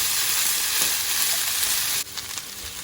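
Drained and rinsed chickpeas fry in a pan on high heat, a loud continuous sizzle close by that drops slightly in level partway through as they are stirred.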